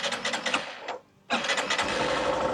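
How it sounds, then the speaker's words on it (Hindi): A Hero Super Splendor Xtec motorcycle engine runs close by, cuts out for a brief moment, then catches again and settles into a steady, rapid-pulsing idle with a mechanical clatter. "सबसे पहले मैं स्टार्ट करता हूँ एक्सटेक को,"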